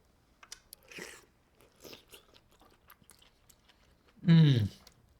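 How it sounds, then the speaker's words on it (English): Someone bites into crunchy Korean fried chicken and chews it, with a few soft, close mouth noises followed by one loud crunching bite near the end. "Let's take another bite, guys."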